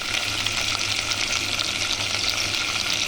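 Pork spare ribs fry in hot oil, a continuous, close, dense sizzle and crackle with a bubbling undertone, steady and loud throughout without speech.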